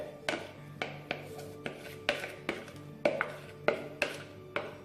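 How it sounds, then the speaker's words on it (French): A utensil stirs a lemon tart mixture in a saucepan with about a dozen evenly spaced scraping clinks, close and clear, in a steady rhythm. "Ensuite, je vais reverser mon mélange dans ma casserole."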